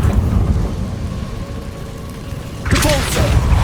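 A Confringo blast spell explodes in the Hogwarts Legacy video game, erupting as a sudden loud, crackling burst near the end after a stretch of low rumbling ambience.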